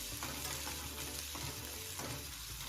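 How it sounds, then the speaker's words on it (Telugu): Onion and green chilli pieces fry in a pan for a banana flower curry, giving a steady close sizzle with a few soft stirring scrapes and no talking. "ఉల్లిపాయ ముక్కలు మరియు పచ్చిమిర్చి ముక్కలు వేసి కొంచెం ఉల్లిపాయలు మంచిగా ఫ్రై అయ్యేలాగా"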